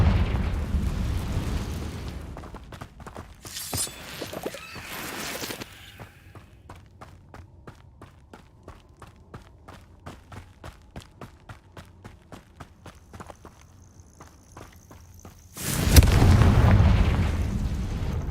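Confringo fire-spell blasts in Hogwarts Legacy: booming explosions sound at the start, then a rapid run of sharp crackling pops, and a final loud burst near the end.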